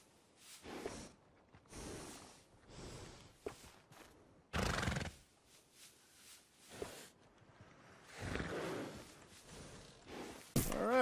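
Horse in Red Dead Redemption 2 whinnying and snorting, with clip-clop hoofbeats in separate quiet bursts spread across the stretch, ending in a louder whinny.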